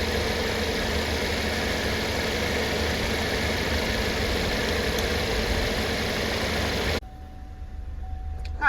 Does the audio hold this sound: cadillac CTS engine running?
yes